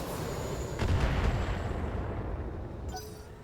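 LRM5 missiles launch in the game BattleTech, a deep rumbling boom swelling and slowly fading over a low roar, ending with a brief brighter tone.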